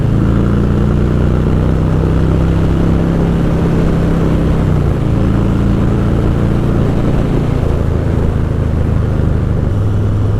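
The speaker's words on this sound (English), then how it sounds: "that rumble of the engine" A deep, steady 2020 Harley-Davidson Street Bob motorcycle engine rumble drones continuously and loudly throughout, with slight shifts in pitch as it idles or revs.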